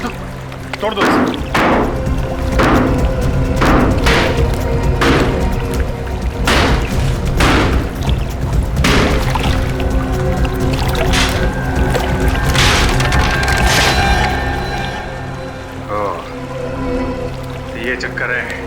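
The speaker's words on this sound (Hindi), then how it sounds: "खोदो, तोड़ दो इसे।" A concrete water tank is smashed open in a TV crime drama: a run of close, heavy blows, then water gushing and splashing out, with a steady tonal background underneath.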